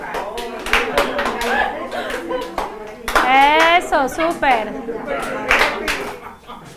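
Participants in a class exercise clap in short bursts, a rhythmic round of claps mixed with chatter and voices, someone speaking over it.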